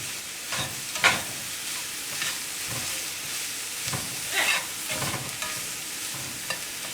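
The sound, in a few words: stirring hamburger meat mixture in a pan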